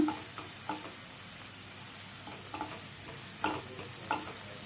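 Coriander stems, green chillies and garlic fry over medium flame in a pan for chutney, a soft steady sizzle broken by several clinks and scrapes of a stirring spoon, no talking.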